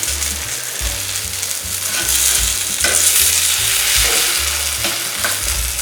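Sweet kuzhi paniyaram sizzle in oil in a pitted pan as each one is gently turned, a loud, close frying hiss broken by repeated scraping and tapping of the turning tool, with no voices.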